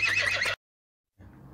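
A horse being hand-fed a carrot gives a loud, close whinny. After a short silence a fainter, softer whinny follows, with no talking.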